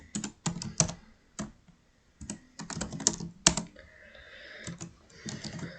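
Switch configuration commands typed on a computer keyboard, bursts of quick close key clicks separated by brief pauses, moderately loud with no voices.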